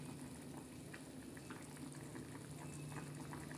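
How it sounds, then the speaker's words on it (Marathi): Mung dal boils in a pot with a faint, continuous bubbling simmer that stays even throughout, with no talking. "ते बघा असं कशी छान अशी उकळी आलेली आहे डाळीला मस्तपैकी"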